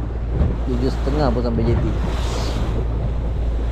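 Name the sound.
strong wind at sea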